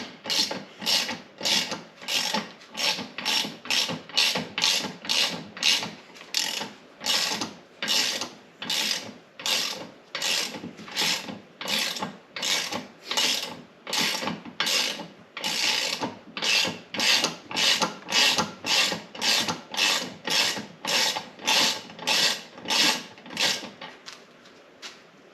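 Ratchet wrench with a 1-1/16 socket worked on a Mercury outboard motor, close rhythmic clicking in steady repeated strokes that continue evenly throughout, no talking.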